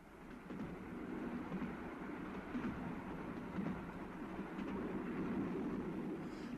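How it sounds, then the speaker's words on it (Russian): Rhythmic clattering of a railway carriage, used as a sound effect in a 1970s humorous radio play, a steady rumbling roll with faint clicks, continuous and moderately close, with no talk over it. "Я написал Радою Ралину, чтобы он встречал меня и сел в купе международного вагона."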